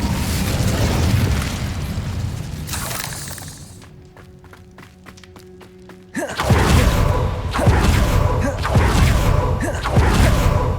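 Incendio fire spell blasts in Hogwarts Legacy, a loud rumbling burst at the start, a quieter stretch of rapid clicks and ringing tones, then a heavy boom followed by repeated crackling bursts.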